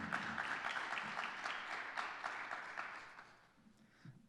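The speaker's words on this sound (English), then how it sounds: "Let's have a round of applause for Billy Curl and Larry Bonner." Audience applause for Billy Curl and Larry Bonner at a 2021 scholarship event, a fairly faint, dense patter of many hands that holds steady, then thins and fades toward the end.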